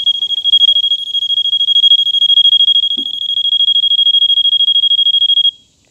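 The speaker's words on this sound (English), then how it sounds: "Now when we remove the unit from the pool, the alarm will sound" A Poolguard inground pool alarm beeps in a rapid, steady, shrill electronic pulse, loud and close, continuing for several seconds before cutting off.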